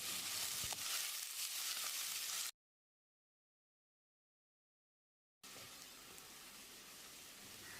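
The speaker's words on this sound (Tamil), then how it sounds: "மீடியம் சைஸில் 3 பெரிய வெங்காயம் பொடியாக நறுக்கினது, கொஞ்சமாக கருவேப்பிலையை சேர்த்து வெங்காயத்தை பொன்னிறமாக வதக்கிடலாம்." Three finely chopped large onions with a few curry leaves sizzle and fry in coconut oil, a steady hissing crackle broken by a silent gap before resuming.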